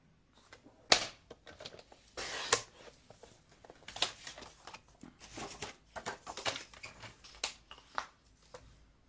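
An A4 sheet of paper being cut into card pieces, with sharp irregular snips and rustles, some louder slicing strokes among quieter handling noises, close by in a quiet room.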